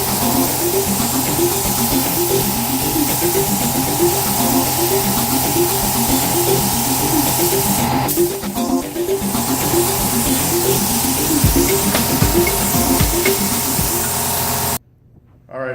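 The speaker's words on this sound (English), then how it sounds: "we're basically done spraying clear on this" A spray gun sprays clear coat onto a car bumper in a steady, loud hiss with a rhythmic pulsing undertone, continuous for about fifteen seconds before cutting off abruptly.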